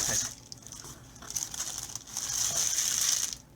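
Bubble wrap packaging being pulled off and crinkled around a Logitech MX Master 3 mouse box, a steady close crackling and rustling that rises and falls over a few seconds, with no talking.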